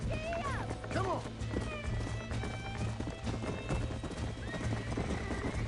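Horse in the video game Red Dead Redemption, hooves clip-clopping in a quick galloping rhythm with a whinny near the start, over a low steady hum and faint voices.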